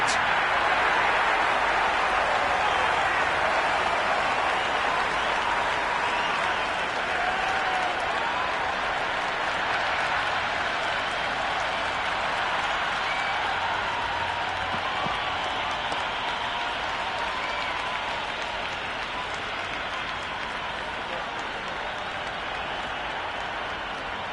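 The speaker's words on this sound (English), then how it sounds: "the crowd have joined the party. It's pretty noisy at the ground" A packed cricket ground at the Big Bash League final between Perth Scorchers and Sydney Sixers roars with steady crowd cheering and applause, a dense, continuous wash of noise that holds loud throughout.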